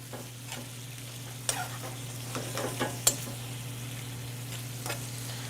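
Pork ragu and rigatoni tossed together in a pan with oregano, giving scattered soft scrapes and clatters over a faint sizzle and a steady low hum.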